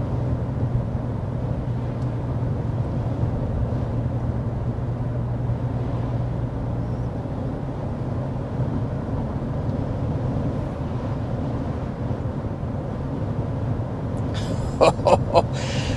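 Inside a 2024 Hyundai Sonata Limited cruising at 55 mph, a steady low road and engine rumble fills a quiet cabin, with brief faint clicks near the end.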